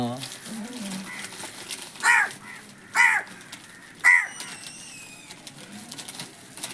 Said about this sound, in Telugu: వీడియో ఆన్ చేయగానే కాకి వచ్చింది